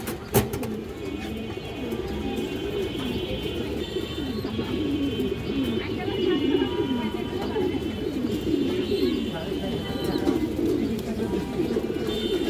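Pigeons coo repeatedly in low, rolling calls, close and continuous, with chirps from other birds mixed in.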